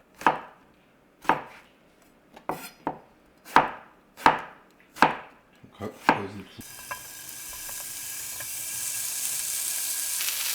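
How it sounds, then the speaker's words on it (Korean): Sharp, evenly spaced knife chops on a cutting board give way to a soft, rising sizzle as sliced zucchini and eggplant start grilling in a dry frying pan with no oil. "맨 후라이팬에다 굽는 거예요. 기름 넣지 마시고요."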